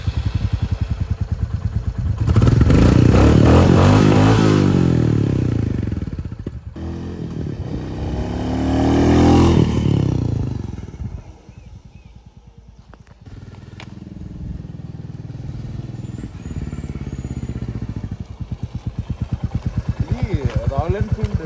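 A Royal Enfield Bullet 350, the new model, runs with a steady low engine thump that swells with revs twice and then settles into a smoother drone, while a voice talks over parts of it.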